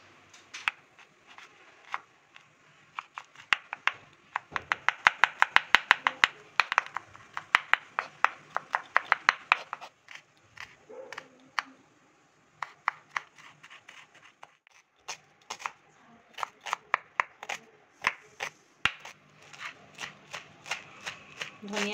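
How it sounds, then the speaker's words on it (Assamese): A kitchen knife chopping ginger, garlic and onion on a board: quick, sharp taps that come in dense bursts, pause, then pick up again in a steady rhythm, close and fairly loud. "এতিয়া সীমান্তই আদা নহৰু পিয়াজ কাটি আছে"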